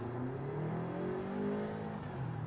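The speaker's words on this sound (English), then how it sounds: "You can definitely see where the turbo properly kicks in." A turbocharged car pulls from 2,000 rpm, its engine note rising steadily in pitch with audible harmonic sweeps, heard from inside at moderate level without talk.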